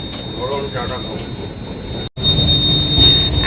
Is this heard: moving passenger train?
yes